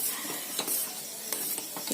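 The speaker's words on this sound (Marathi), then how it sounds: "आता आपल्या खीरीला छान अशी उकळी आलेली आहे." Vermicelli kheer at a boil in a pot makes faint, soft bubbling pops that come in irregular bursts over a low hiss, with no voices.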